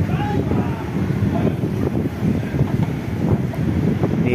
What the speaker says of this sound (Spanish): y con este fuerte viento